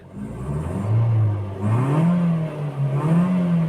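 Engine of a 2008 Toyota Vios running just after starting, a close steady hum that rises and swells with revving, alone without talk.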